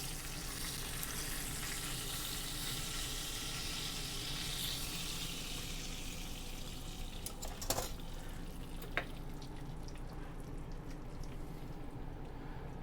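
Prime ribeye steak searing in a stainless steel pan, a steady, faint sizzle throughout with a couple of sharp pan or utensil clicks near the end.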